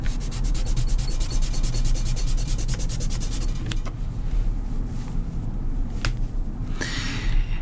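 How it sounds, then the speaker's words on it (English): A kneaded eraser rubs steadily over black fountain-pen ink on paper, a continuous close scratchy friction with rhythmic strokes, later thinning into a few sharper scrapes and a final burst of rubbing. "I'm using a kneaded eraser"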